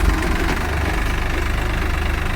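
Swaraj 744 XT and New Holland 3600 tractors run side by side in a pulling contest, their diesel engines giving a steady, moderately loud knocking thrum with an even pulse throughout.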